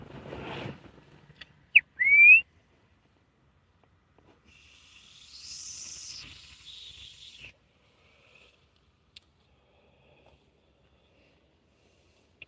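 A person whistles a call: a short sharp whistle burst followed by a rising, sliding whistle tone, then a longer breathy hiss-like passage, with near-silence between.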